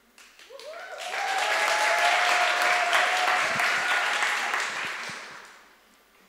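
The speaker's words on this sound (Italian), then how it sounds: "Quando si beve c'è sempre l'applauso." An audience applauds at an Italian preaching relay evening: clapping swells within the first second, holds steady and full for several seconds with a brief whistled tone early on, then tapers off.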